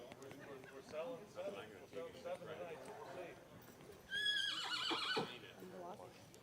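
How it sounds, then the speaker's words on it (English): A filly at a horse sale neighs with a loud, clear whinny midway, preceded by softer nickering and movement, with people talking quietly in the background. "So right here is Sweetest Zoe, a good looking filly selling on day number 4."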